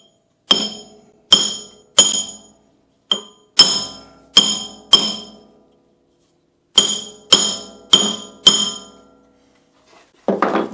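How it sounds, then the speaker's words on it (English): A flat-faced hammer strikes metal about a dozen times in irregular groups, each blow a sharp, ringing clink that decays quickly into silence, with a faint scrape at the end. "This has been my most used hammer."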